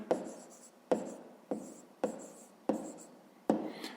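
Hand writing with a pen on paper while working a grade 5 maths problem, about six distinct scratchy strokes in a steady rhythm, close and fairly quiet with no voices.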